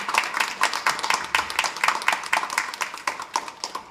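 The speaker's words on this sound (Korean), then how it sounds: "인사하시고 들어갈 때 박수해 주세요." A church congregation at a Korean Sunday worship service claps together in a quick, even rhythm, producing sharp, regularly spaced hand claps throughout.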